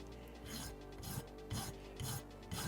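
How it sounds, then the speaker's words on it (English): Big coarse file rasping across a plastic Gunpla panel from an MG Freedom Gundam 2.0 kit, five regular light strokes about half a second apart, close and fairly quiet. "I'll do some of the initial reshaping with this big file just because it removes material really quickly"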